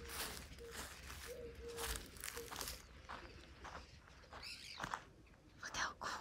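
Pigeons cooing inside an abandoned building in a ghost town: faint, low, hollow coos with soft rustling and shuffling footsteps in a quiet, echoing space.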